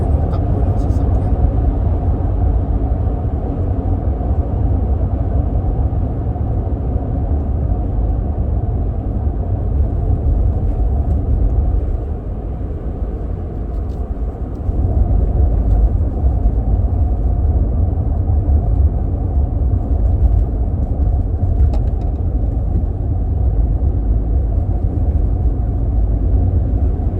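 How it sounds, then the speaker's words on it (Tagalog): Cars keep moving on a busy highway with no traffic lights, making a steady, loud, continuous rumble of engines and tyres, with a voice speaking over it. "Kahit busy, dire-diretso pa rin ang takbo ng sasakyan."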